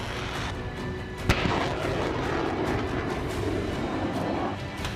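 Missile and drone strikes in the Russia-Ukraine war, a sharp blast early on over a constant low rumble resembling aircraft and distant artillery.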